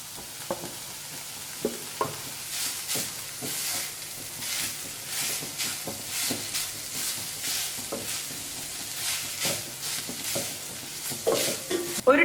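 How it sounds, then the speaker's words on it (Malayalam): Scrambled egg stirred into sizzling chicken fried rice in a hot pan, with a soft continuous fry hiss broken by repeated scraping and tossing strokes of a spatula at an uneven rhythm, close and moderately loud, with no voices. "ഇനി ഇതിലേക്ക് നമുക്ക് സ്ക്രാമ്പിൾ ചെയ്ത് വെച്ച എഗ്ഗ് ചേർത്ത് കൊടുക്കാം."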